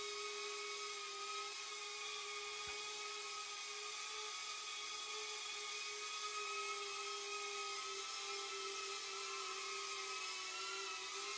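Motors of a Snapper 7 drone held above half throttle to stay airborne, giving a steady, loud, high-pitched whine with layered tones that hardly changes throughout.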